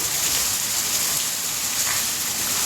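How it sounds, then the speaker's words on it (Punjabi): Heavy rain pours down in a dense, unbroken roar of drops, loud and steady throughout with no voices. "ਜਿਹੜੇ ਅੱਜ ਮੀਂਹ ਪਿਆ"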